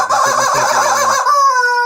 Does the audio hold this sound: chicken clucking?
yes